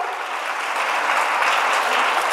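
A school audience at a Children's Day celebration claps to welcome guests, a short burst of dense, even applause from many hands that swells slightly toward the end.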